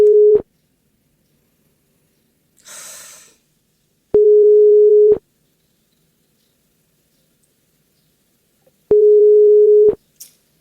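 Unanswered telephone call: a steady ringback tone in loud, even bursts of about a second with long silent gaps, heard three times, plus a brief faint hiss between them.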